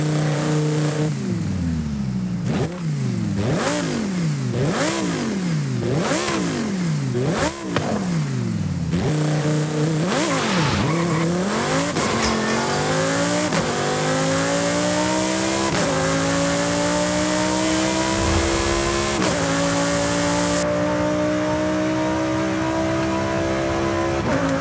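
An Italian exotic car's engine revs in a racing video game, rising and falling in quick repeated bursts before climbing through long rising gear sweeps. The tone is loud, close and continuous, with no talking.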